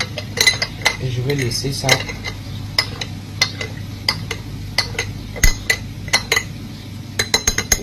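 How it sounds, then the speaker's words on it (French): A utensil mixes ingredients with added milk in a bowl, giving close clinks and scrapes against the dish in a steady stirring rhythm. Someone speaks French at moments. "Je mélange le tout."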